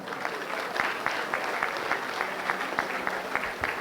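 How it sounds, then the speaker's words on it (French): An audience at a regional prize-giving ceremony in Île-de-France claps for the award winners, a steady fairly quiet patter of many hands with a few sharper individual claps standing out throughout. "vous allez applaudir les lauréats tout à l'heure"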